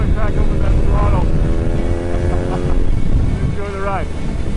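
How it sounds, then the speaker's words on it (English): A BMW R nineT Urban G/S motorcycle with a raspy, raucous exhaust drones loudly and steadily while riding, with a few rising rev sweeps cutting through heavy wind rush. "it sounds pretty great with this exhaust. It's a little bit raspy, a little bit raucous."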